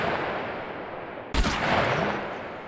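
An AK-47 fired in the survival video game SCUM, a sharp gunshot burst midway through steady background noise, with no voices.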